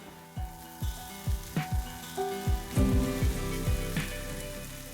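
Tofu crumble sautés in a pan with a soft steady sizzle, broken by regular scraping stirs of a utensil, about two each second, quiet and close.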